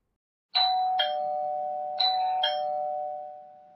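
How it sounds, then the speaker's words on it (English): A loud electronic doorbell chime from a Tapo H110 smart hub rings out, four bright ding tones in two pairs, each ringing on before fading slowly to silence, on its lowest volume setting. "it can also act as a doorbell chime, although only for Tapo devices of course"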